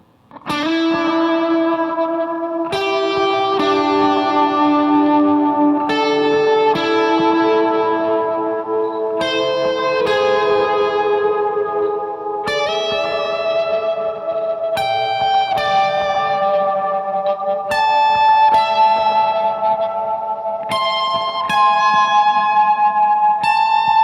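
Electric guitar through a Hungry Robot Pedals The Wash effect pedal, playing a steady sequence of picked chords and arpeggios for about twenty seconds, each wrapped in a wash of echo and reverb, loud and continuous with no voice.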